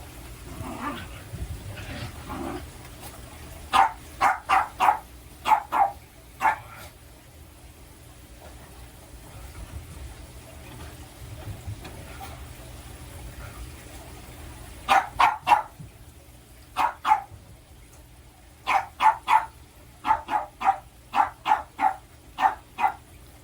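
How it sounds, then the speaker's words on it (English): A small Boston Terrier barks indoors in a home kitchen, loud, close yelps coming in quick clusters of three to six, with quiet gaps between bursts. "my one little Boston Terrier is losing her mind right now"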